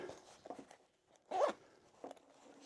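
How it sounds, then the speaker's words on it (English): Zippers on a 945 Industries Q.A.P.S. tactical waist pack being pulled open, a few short close rasping zips with one louder, longer pull in the middle, no talking. "Now I'm stuck pulling these zips and then opening it, right?"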